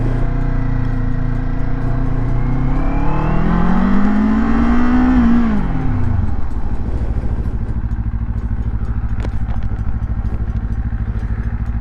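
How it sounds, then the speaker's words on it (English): A Kawasaki Z500 naked motorcycle rolls through a low-speed parking lot test, its engine revving up and dropping back before settling into a steady, close-up putter, with no talking. "these low speed parking lot tests, where you can kind of get the feel for the bike underneath of you"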